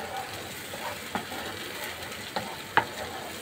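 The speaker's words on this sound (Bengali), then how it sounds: "দিয়ে দিচ্ছি পরিমাণ মতো হলুদ গুঁড়ো এবং মশলাটা ভালোভাবে কষতে হবে।" Spice paste with tomato and turmeric stir-frying in a pan, with a steady soft sizzle and a few light scraping clicks from stirring, no voices.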